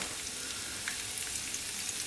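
Onions fry in sunflower oil in a pan, giving a steady, bright sizzle with small crackles throughout.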